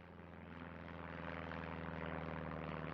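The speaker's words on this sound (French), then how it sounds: "Un avion." Propeller airplane engine used as an audiobook sound effect, a steady droning hum with a low throbbing tone that grows slightly louder as the aircraft approaches.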